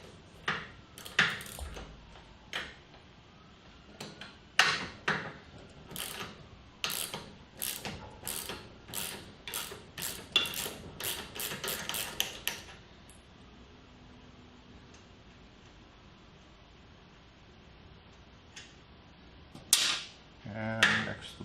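A 7/8 inch wrench works a link bar nut loose on a Mark 7 650 autodrive assembly, producing a long, fast run of sharp metallic ratcheting clicks. The clicks then pause and a few more come near the end.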